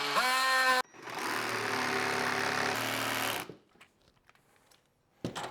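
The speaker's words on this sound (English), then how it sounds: "then we can drop a jigsaw into it" A jigsaw cuts through wood while a Flow Hive super is built. The motor whines briefly, then a loud, steady reciprocating buzz runs close up for about three seconds and cuts off. Quiet handling knocks follow.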